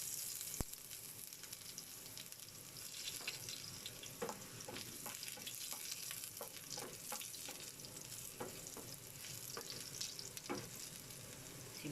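Chopped garlic frying in a hot pan gives a steady close sizzle throughout, broken by scattered clicks and scrapes from stirring, with no talking.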